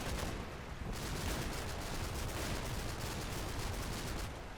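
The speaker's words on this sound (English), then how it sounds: "I'm hoping the machine gun from a Churchill can get some good work done here" Sustained machine gun fire from a Churchill tank in the Normandy battle of Combat Mission, a dense unbroken rattle of rapid shots running loud and steady throughout.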